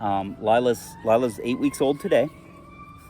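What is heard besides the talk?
emergency vehicle sirens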